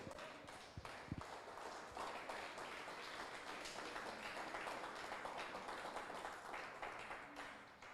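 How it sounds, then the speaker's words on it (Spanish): A church congregation applauds in praise of the Lord during a Spanish-language sermon on spiritual warfare, a continuous faint, distant-sounding patter of many hands that tapers off at the end. "Dale un aplauso al Señor."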